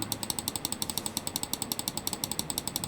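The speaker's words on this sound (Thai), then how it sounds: "คลิกซ้ายครับ" Rapid, evenly spaced clicks of the left button on an Xtrfy M8 wireless gaming mouse, crisp and close, repeating quickly without pause.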